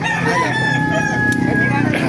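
A rooster crows at a bustling chicken market in Baliuag, one drawn-out cock-a-doodle-doo rising over background clucking, murmured talk and general market noise.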